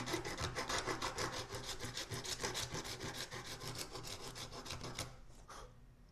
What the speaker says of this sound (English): I'll use my new Shinto rasp to get that glue off.